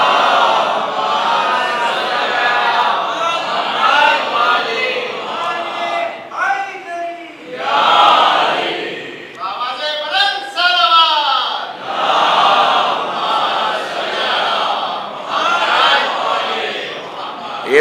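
A large congregation at a Shia majlis gathering for Ayyam-e-Fatimiyah chants a religious slogan in loud, repeated call-and-response waves that fill the hall with a roaring crowd sound, with voices rising and falling.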